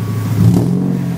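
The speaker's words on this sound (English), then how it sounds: "Rev it a little bit." A Hyundai Tiburon engine fitted with eBay headers gives a short, loud rev, its low exhaust note swelling briefly and then settling, close by and with no talk.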